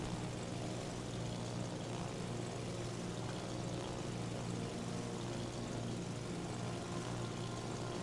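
Propeller aircraft from the Warships video game droning overhead, a dense, loud, continuous engine roar that holds steady throughout with no voices.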